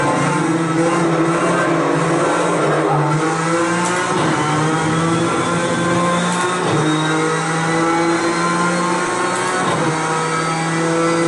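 Race car engine in a racing video game revving hard and accelerating, a loud steady high-pitched whine with gear shifts and rising pitch, continuous throughout with no talking.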